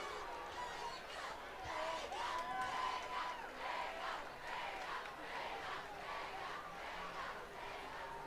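A high school football crowd roars at a night game after a touchdown, a loud sustained wash of cheering and shouting voices filling the stands, with faint announcer talk running underneath.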